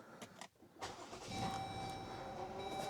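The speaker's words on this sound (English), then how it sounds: "we're going to go ahead and start the car" A 2021 Chrysler Pacifica with a faulty MAP sensor and rough idle starts up with a brief crank, then settles into a steady, quiet engine hum, heard faintly from nearby.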